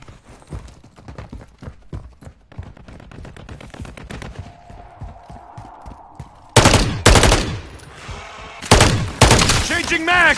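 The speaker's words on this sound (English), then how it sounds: "По нам садят из пулемета!" Machine gun fire in Call of Duty MW3 Zombies on PS5 rattles in loud rapid bursts near the end, after a stretch of quieter clattering, with game voices speaking over parts of it.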